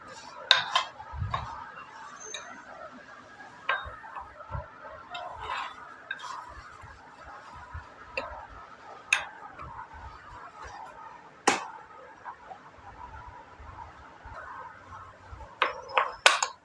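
Tamarind pounded into small balls in a traditional mortar and pestle: irregular sharp knocks and dull thuds repeat at uneven intervals, moderately close, with soft clinks between strikes and no talking.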